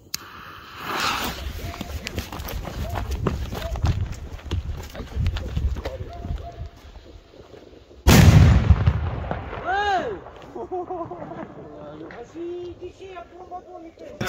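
Firecrackers including 18 gram Polenböller go off at a New Year's Eve fireworks show, with a loud close blast near the middle among sharper pops and bangs, while people talk and shout around them.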